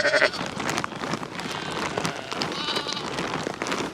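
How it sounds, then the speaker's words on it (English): A sheep on a farm during lambing season bleats loudly and close at the start, followed by a busy background of other livestock and a pattering, rain-like noise. "There's a sheep lambing up there, I can now clearly see."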